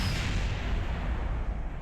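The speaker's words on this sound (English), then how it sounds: "I like that that makes a big explosion" A part blowing apart in Kerbal Space Program, a dense, rumbling game explosion with heavy low boom and crackling debris, loud and sustained throughout with no talk.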